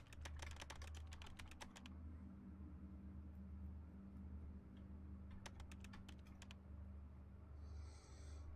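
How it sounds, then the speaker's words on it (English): Clicky computer keyboard typing in quick bursts of keystrokes, pausing in between, close and fairly quiet over a low steady hum. "That's what I miss on modern keyboards, is the clicking."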